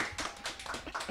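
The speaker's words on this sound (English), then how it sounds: "Let's get a round of applause for that." Brief, faint clapping from a small audience at a TV10 college music show, a quick patter of a few hands lasting about a second.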